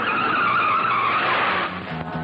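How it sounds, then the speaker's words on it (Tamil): A car brakes suddenly and its tires skid, making a loud, close, sustained squeal that fades as the vehicle stops. "நான் திடீர்னு காரை நிறுத்திடுறேன்"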